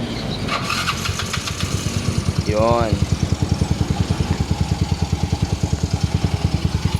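A 59BV motorcycle engine cranks and catches, then settles into a steady, loud, close idle with a rapid even putter, a brief rising rev near the start, and a short spoken word over it.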